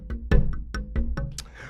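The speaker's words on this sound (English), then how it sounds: "The drum loop sounds like this." Drum loop from a Yamaha MX61 synthesizer, a steady pattern of punchy kick and snare hits with bright cymbal accents, about five strikes in under two seconds, played alone with no voice.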